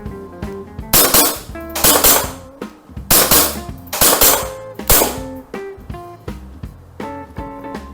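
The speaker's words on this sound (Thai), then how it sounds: "อันนี้เดี๋ยวลองยิงต่อเนื่องนะครับ" Walther PPQ M2 BB pistol by Umarex (VFC) firing continuously, a rapid series of sharp, loud cracks with metallic slide clacks in clustered bursts, close and alone without talk.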